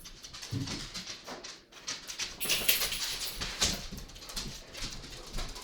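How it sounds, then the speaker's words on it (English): A dog makes scattered whimpering and yelping noises, close by and fairly loud, in irregular bursts with brief pauses and no talking. "Having dog problems."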